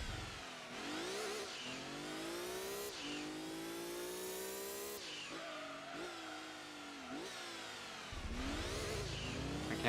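Race car engine in Gran Turismo 2 revving up and down through repeated gear shifts, loud buzzing tone sweeping upward then dropping several times in steady cycles, with brief tire squeal hints, no talking over it.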